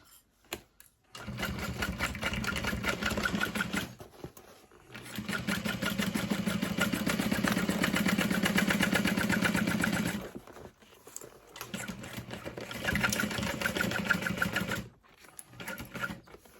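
A sewing machine stitches a tote bag seam with a half-inch seam allowance, its rapid mechanical whir running in three long bursts separated by brief pauses, close and steady.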